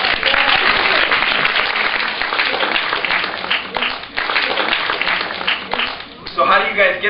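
Loud, dense audience applause at a keynote talk, a full wall of clapping that thins briefly and swells again before a voice comes in at the end.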